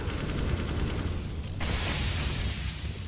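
Rapid bursts of game gunfire crackle continuously, dense and steady, with a brighter burst partway through, no voices over it.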